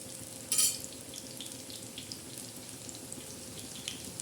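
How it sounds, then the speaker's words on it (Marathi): Green chillies coated in gram flour and wheat flour batter shallow-frying in a little oil on a flat pan, a soft continuous sizzle with one louder hissing burst near the start. "मग एकदम तळ्यासा तळून जातील चांगल्या अशा तळायच्या कमी तेलात आणि तव्यावर"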